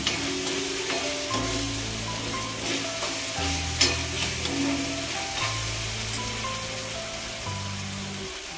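Onion frying in sticky oil for bitter gourd curry sizzles steadily and close, with stirring and occasional tonal clinks over a constant crackle, and no talking.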